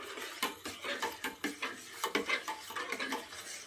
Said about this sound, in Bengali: পানিতে দুধটা মিশিয়ে নেব